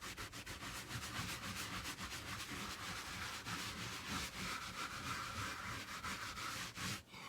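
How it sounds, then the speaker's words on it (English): Towel rags rubbed over an RV ceiling to dry it, a soft, fairly quiet repeated rubbing and swishing in quick back-and-forth strokes, close to the ear. "And then I hand dry it with a towel with these rags."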